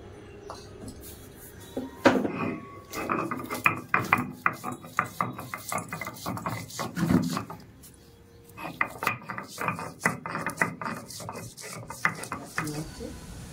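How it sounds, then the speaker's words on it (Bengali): Ginger and garlic ground into a paste for a Bengali koi fish dish, giving repeated rough rubbing and rasping strokes with occasional knocks, close and fairly steady with a short pause midway. "আমি আদা রসুনটা বেটে নিচ্ছি"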